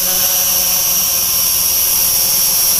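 An SG 900-S GPS drone hovers nearby with a loud, steady high-pitched propeller whine and buzz that holds constant throughout.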